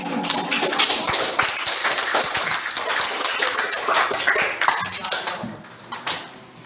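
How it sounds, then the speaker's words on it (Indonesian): Classmates in a school lesson clap together, a loose, uneven patter of many hands with sharper individual claps standing out, thinning toward the end with a few scattered final claps. "tepuk tangan untuk kalian"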